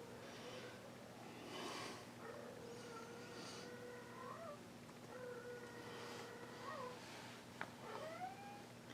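A house cat meows repeatedly at close range, with several drawn-out, rising and falling cries over a constant low electrical hum.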